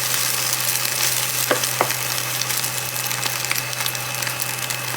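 Chopped garlic and red shallots fry in hot oil for stir-fried bean sprouts with egg, giving a dense, continuous close sizzle with a couple of brief utensil scrapes and a low steady hum underneath.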